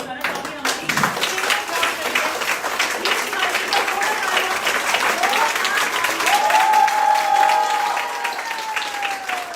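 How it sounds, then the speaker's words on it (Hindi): Sustained, loud audience applause welcomes a guest onto the stage at a Women's Power Day (Nari Shakti Diwas) event, a dense wash of clapping lasting throughout with a faint tonal whine rising near the end. "मैं आप सभी लोगों की तालियों के बीच में जोरदार तालियों के बीच में बुलाना चाहूँगी"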